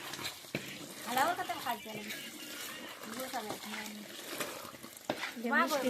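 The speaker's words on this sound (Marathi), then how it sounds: "आता याला पण परत मिक्स करून घ्यायचं मस्त मिक्स करते" Someone talks while stirring a thick mixture of melted jaggery and oil, three kilos of jaggery in three litres of oil, for fenugreek laddu, the soft wet scraping strokes running steadily beneath her voice.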